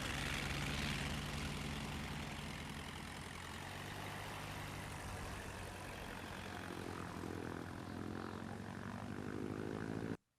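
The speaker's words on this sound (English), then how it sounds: "It sounds like a little prop plane." Small propeller plane sound effect: a steady, droning engine and propeller roar that holds throughout, with shifting tones near the end before cutting off abruptly.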